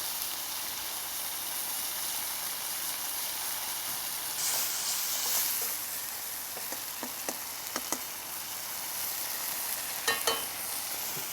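A madras curry base cooks down in oil in a pan, giving a steady soft sizzle and hiss with a few sharper crackles and stirring taps, close by and with no talk.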